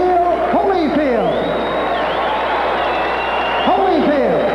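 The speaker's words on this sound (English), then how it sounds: "And have a nice round of applause for Dwight Muhammad Qawi." Boxing arena crowd applauding and cheering after a cruiserweight title fight, a steady roar of clapping under a loud announcer's voice.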